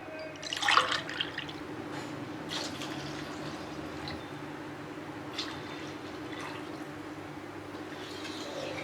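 Coconut milk poured over rice in a cooking pot for coconut milk rice, with a faint splashing pour near the start that fades into a quiet, steady liquid hiss.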